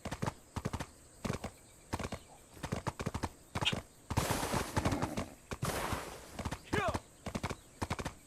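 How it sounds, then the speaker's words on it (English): Hooves clip-clop steadily from a tier 10 horse in the online game Black Desert, a quick rhythmic trotting under a streamer's voice, with a brief whinny near the end. "no, this is not a mountain goat, the tier 10 horse."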